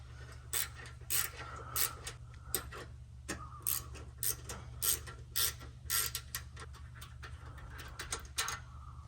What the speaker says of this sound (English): we're going to remove these two 10mm bolts from the exhaust hanger